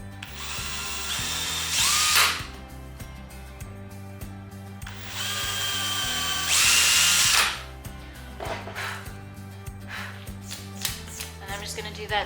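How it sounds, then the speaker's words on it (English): A power drill spins up twice in short bursts, drilling pilot holes into wood over scrap wood, close by, over a steady music track, with light clatter from the work surface. "I'm gonna drill some pilot holes"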